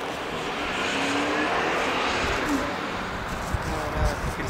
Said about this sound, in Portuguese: aqueles carros lá em segurança deles